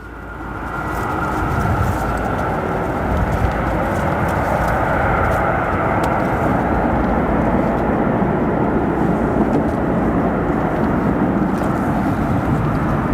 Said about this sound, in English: We'll take a look at our British Airways 777